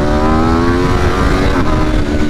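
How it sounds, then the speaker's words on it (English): A tuned 2022 Aprilia RSV4 Factory 1100 sport bike with a BT Moto ECU flash screams at high RPM during a ride, its loud engine note climbing steadily and blipping on an automatic shift, close and continuous. "Try to get some speed here so I get a high RPM auto blip."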